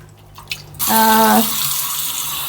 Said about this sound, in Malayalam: ഇനി ഞാൻ ആവശ്യത്തിന് വെള്ളം ഒഴിക്കുകയാണ്.